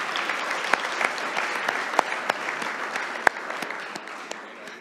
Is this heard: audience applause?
yes